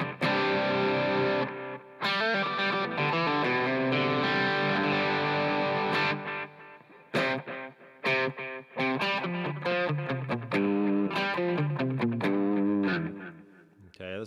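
Electric guitar played through reverb and delay into a distorted amp on a Headrush unit, loud chords and bursts of notes that ring and cut off, with a trailing wash between phrases.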